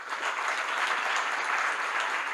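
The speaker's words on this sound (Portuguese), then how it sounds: "Palmas para o professor." An audience gives a professor a dense, even burst of applause, many hands clapping together at steady volume with no other sound standing out.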